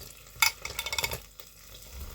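Partridge layered with bacon and rosemary sizzles in a pan as hot fat is spooned over it, with a quick run of bright splattering bursts and clinks over a low background sizzle.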